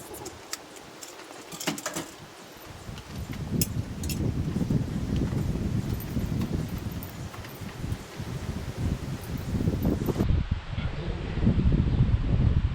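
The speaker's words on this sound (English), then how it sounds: "that wind is chilly today" Chilly wind blows outdoors as a steady, rough rumble with gusty buffeting against the microphone, continuous and fairly loud throughout, with light rustling mixed in and no talking.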